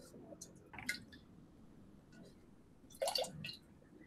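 Water dripping and splashing in a large stone sink with spoons, soft intermittent drips and small splashes close by, with a louder burst of trickling near the end in a quiet room.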